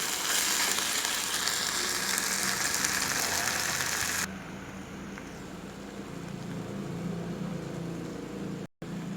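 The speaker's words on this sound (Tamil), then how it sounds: "பச்சை வாசனை போகிற வரைக்கும் ஒரு 2 நிமிஷம் வதக்கிடலாம்" Mushroom pepper masala sautés in oil with a steady sizzling hiss, loud at first and then softer after a sudden drop, with a brief break near the end.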